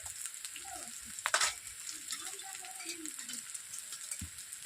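Chili powder and spices fry in a pan of oil for a cauliflower and egg curry, giving a soft, continuous sizzle with a sharper crackle burst partway through and a few faint scrapes.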